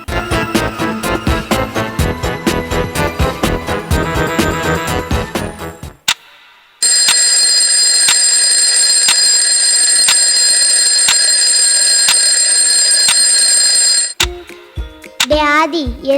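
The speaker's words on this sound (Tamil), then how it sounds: "அலாரம் அடிக்குது பாரு." An alarm clock rings in a children's day skit, a loud sustained electronic ringing lasting several seconds, preceded by rhythmic musical chimes and followed by brief clattering sounds.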